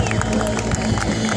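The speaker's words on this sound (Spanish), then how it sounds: "fuerte el aplauso para Nick Hendrix" A crowd at a skateboarding demo in Buenos Aires applauds and cheers for skater Nick Hendrix, a short, loud, continuous wash of clapping and crowd noise close by.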